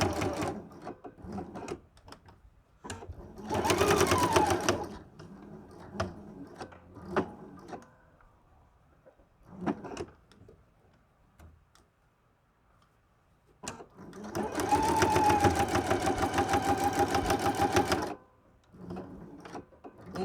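A sewing machine stitches fabric over a seam in two close, steady runs of fast mechanical whirring, the second longer, separated by soft handling and clicking sounds.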